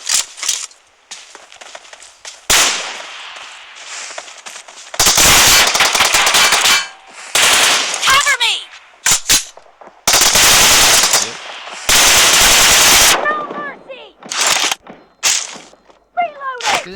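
Video game gunfire erupts in loud bursts of rapid automatic shots separated by short gaps, with quieter single pops and a voice talking between them.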